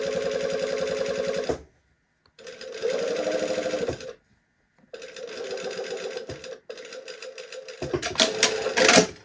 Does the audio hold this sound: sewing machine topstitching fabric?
yes